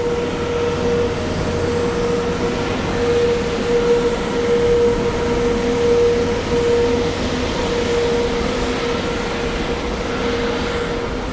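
A loud airplane engine drones steadily nearby at JFK airport, a broad continuous roar with a sustained whining tone that swells slightly midway.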